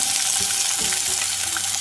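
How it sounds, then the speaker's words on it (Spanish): Onion frying in a little oil in a pan, heard as a loud, dense, continuous crackling sizzle up close, with no talking over it. "para freír la cebolla"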